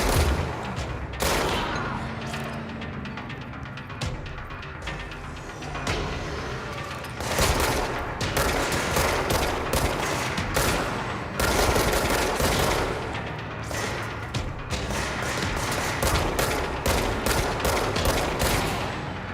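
Heavy shotgun gunfire in the video game Control, with repeated loud blasts and booming volleys packed densely across the whole stretch, bursts coming in quick clusters with barely any gaps between them.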